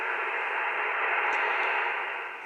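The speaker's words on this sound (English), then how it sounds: "let's turn the generator on and look at the noise, or the S meter on the 8600." An amateur radio receiver picks up the broadband hiss of a homemade noise generator, a steady, loud band of static that holds even for the whole stretch with no talk.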